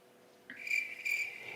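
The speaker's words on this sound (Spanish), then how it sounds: "No me pongas los grillos, no me pongas los grillos" Crickets chirping in a steady high trill that begins partway through and continues alone, fairly close and clear against a quiet background.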